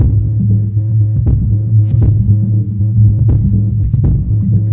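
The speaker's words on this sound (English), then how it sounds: "So I can hear a little bit more of the music with low end of some other instruments coming in there." An FBT SUBLINE 112SA active 12-inch subwoofer plays music with deep, throbbing bass. A steady low-end hum fills the space with some faint higher instrument hits, loud and continuous, with no talk.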